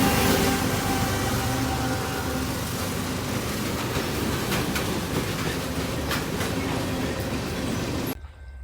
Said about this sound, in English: I did catch one last train today, and it was L313 with its usual consist.